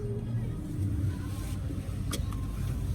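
Steady low engine rumble and road noise from inside a Grab ride car crawling through heavy traffic, continuous and close, with a brief faint higher sound near the end.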